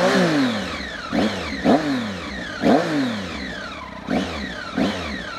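A Triumph Speed Triple ABS super naked motorcycle with aftermarket exhausts is blipped through a series of sharp revs. Each rev climbs and falls quickly, repeating about every second, close up and with no talk.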